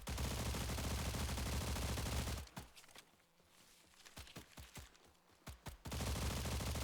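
Video game gunshots ring out in a quick series of sharp, separate cracks during an arena boss fight, set between stretches of loud, dense game noise.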